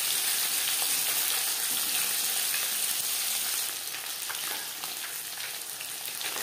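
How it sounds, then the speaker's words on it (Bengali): Pieces of rohu fish sizzle in hot oil in a pan, a dense, steady crackling hiss that stays close and loud throughout and eases slightly in the second half. "জ্যান্ত মাছ আমি তাই হালকা করে ভেজে নিলাম"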